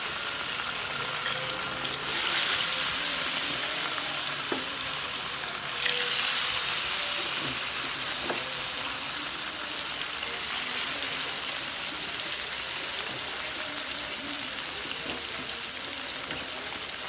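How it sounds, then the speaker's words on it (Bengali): Bata fish fry in hot oil with a steady, dense sizzle that swells briefly a couple of times, close and continuous, with occasional small clinks. "মাছগুলোকে লাল করে ভেজে নেব এখন।"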